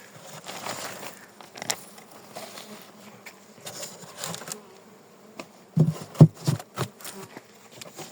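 A low, continuous buzz of honey bees at an open hive hums throughout, with soft clicks and taps, and a few louder knocks near the end.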